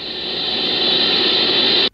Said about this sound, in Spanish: la Horn Antenna que utilizan recibe constantes interferencias